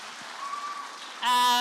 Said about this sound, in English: Can we have a big round of applause for Lewis?